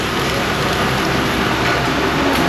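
Steady rain falls on a backyard, a constant broad hiss with the patter of drops spread evenly throughout.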